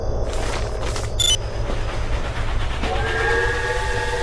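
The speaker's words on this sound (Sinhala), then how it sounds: "ඔන්න එහෙනම් කෝච්චිය අපායට ගියා." A steam-style whistle blows as a train attraction launches in the horror video game Death Park, with rumbling rail noise underneath and a sustained whistle tone rising near the end.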